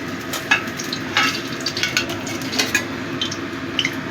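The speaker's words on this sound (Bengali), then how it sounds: "মাছটার এক পাশ ভাজা হয়ে গেছে, এবার আমি উল্টে দিচ্ছি। এই দিকটাও ভালো করে ভেজে নেব।" Pabda fish fries in oil in a pan with a bright, constant sizzle broken by scattered pops and the clink of a spatula stirring, loud and close, with no voice.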